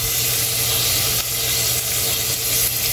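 Ground beef frying in a pan, with a steady, loud, continuous sizzle and hiss heard close up with no talking.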